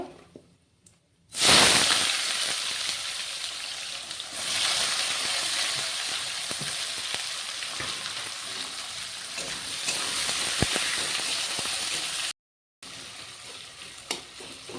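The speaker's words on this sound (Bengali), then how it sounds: "পেঁয়াজটা আমি হালকা ভেজে নেবো" Chopped onion hits hot oil in a pan with whole garam masala spices and cumin seeds, bursting into a loud steady sizzle with stirring scrapes, then cutting off briefly near the end before resuming.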